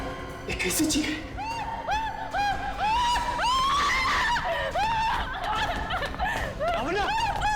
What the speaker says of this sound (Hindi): कैसी चीख है?